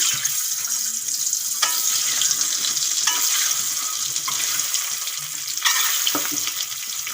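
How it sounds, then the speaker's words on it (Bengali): Eggs coated in turmeric, salt and chilli powder fry in oil with a continuous bubbling sizzle, close and steady, broken by a few brief clatters of a utensil; nobody speaks. "ডিমে হলুদ নুন লঙ্কা গুঁড়ো মাখিয়ে নিয়েছি এখন ভেজে নেব"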